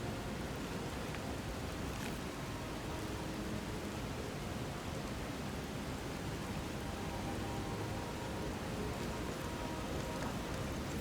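Steady rainfall in the video game Skyrim, a dense, even hiss of drops that holds unchanged throughout, with no voices or music on top.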